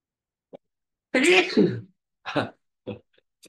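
One sharp, loud sneeze bursts out nearby, followed by a few smaller breathy sniffs and throat noises.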